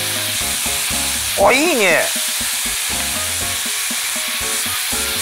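Yakisoba noodles with BBQ sauce sizzle and crackle steadily on a hot griddle, close and lively, while a man briefly remarks over the frying.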